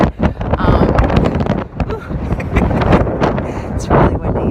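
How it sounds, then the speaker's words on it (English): Loud, gusty wind on the Appalachian Trail buffets the microphone throughout, roaring and rumbling while a person talks through it. "It's really windy."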